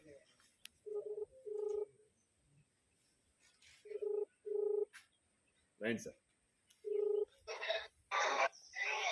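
A telephone ringback tone sounds as repeated paired beeps at an even rhythm, fairly faint, and a few brief voice sounds come near the end.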